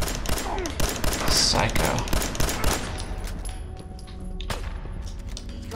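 Rapid bursts of gunfire from a Fallout 4 firefight crackle close and loud, overlapping in dense volleys before thinning into scattered shots while voices talk over the action.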